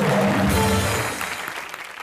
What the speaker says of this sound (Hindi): जोरदार तालियां शाहिद के लिए